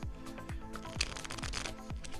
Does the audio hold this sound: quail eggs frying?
no